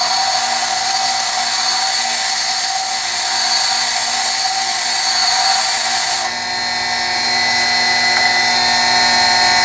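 A bench grinder shapes a lathe thread-cutting tool bit, a loud, continuous high-pitched whine of steel against the wheel that shifts tone partway through as pressure on the bit changes.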